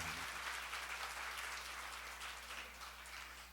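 Applause from a church seminar audience, a steady wash of many hands clapping together at low level, sustained throughout with no voices over it.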